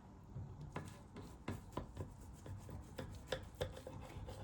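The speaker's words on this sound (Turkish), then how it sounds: "Şimdi mis kokulu kekimi kesiyorum." Knife cutting through a soft apple cinnamon cake, a series of soft rasping slices and dull taps on a board, close and moderately quiet, with no talking.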